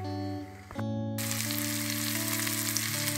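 Oil sizzles loudly and steadily after bitter gourd drops into a hot pan, a constant crackling hiss with a low hum underneath.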